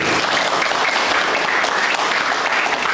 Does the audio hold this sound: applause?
yes